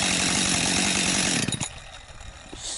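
Chainsaw being pull-started for cutting firewood, a loud close buzzing engine burst for about a second and a half, then sputtering and dying away into quieter rustling.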